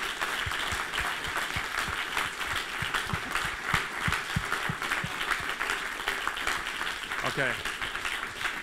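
Audience applause fills a conference hall at the wrap-up of an open-source CubeSat workshop, a steady dense patter of clapping that carries on under a speaker's voice throughout.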